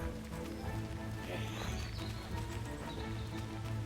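Horse hooves approach in Kingdom Come: Deliverance, a medieval game, as a quiet, steady clip-clop of trotting steps with a hint of whinny over soft outdoor ambience.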